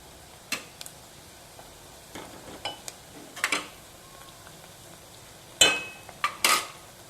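Onion, green chilli and ginger garlic paste are stirred in a pan, heard as scattered metallic scrapes and clinks of a spoon against the pan, sparse at first and louder near the end.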